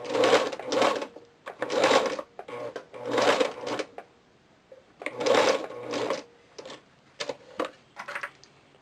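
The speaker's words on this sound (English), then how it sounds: "Hold your threads before you start sewing. And then do a straight stitch." Sewing machine running a straight stitch on a cloth diaper, sounding as several short bursts of rapid mechanical whirring and clatter separated by pauses, with a few quieter brief runs toward the end.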